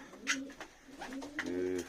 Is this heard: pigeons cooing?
yes